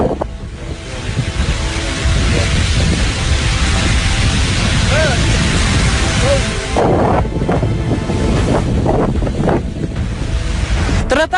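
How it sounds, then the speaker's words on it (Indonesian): Water rushes out in a steady, loud broadband roar, carrying sand along a river in the Empty Quarter desert of Saudi Arabia; it continues without pause, and faint voices can be heard beneath it in the later part. "Dari sekian ribu kubik air yang keluar, itu yang terbawa awal adalah pasir"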